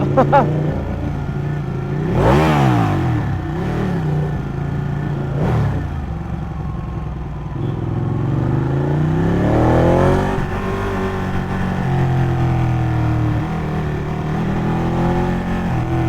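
Superbikes rev and pass along a city street near police, with loud engine roars sweeping up and down as bikes pass, several distinct revving bursts over steady traffic noise.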